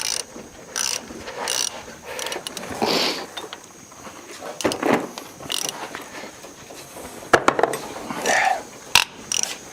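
Close, loud clicking of a ratchet wrench turning a tight bolt on an old 1946 International KB3 truck engine, in uneven bursts of rapid clicks with pauses and a few metallic knocks.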